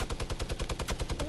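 Gunfire in a battle royale video game, a rapid, loud, close stream of shots firing steadily throughout.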